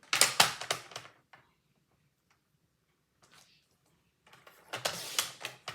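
Paper for a Stamperia Cosy Winter album is cut in bursts of crisp snipping and slicing, a loud cluster at the start and another near the end, with quiet handling between and no talk.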